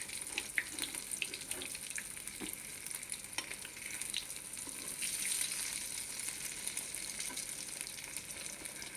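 Shami kabab meat frying in a pan over a medium flame gives a soft, continuous sizzle and crackle with scattered light ticks, fairly faint and without any voices.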